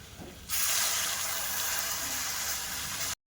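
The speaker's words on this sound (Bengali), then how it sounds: "আর আমি উপর থেকে একটু চিনি শিরা দিয়ে দেব।" Sugar syrup poured over a flour pitha, a sudden steady liquid hiss starting abruptly and running evenly for a few seconds before cutting off, close and loud.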